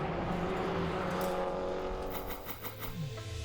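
Race cars during a three-hour endurance race at TT Circuit Assen: a loud sustained engine roar at close range, with rising and falling tones as cars pass and accelerate.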